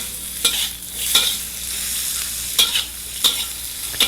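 Carrots stir-frying in sesame oil with asafoetida, a steady close sizzle broken by several sharp scraping clinks of the utensil against the pan, no voices.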